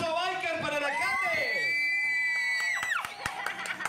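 Crowd at a Girardot bike week gathering in Colombia cheering and whooping for the mayor, voices rising in a loud shout that builds and then fades, with scattered claps at the end.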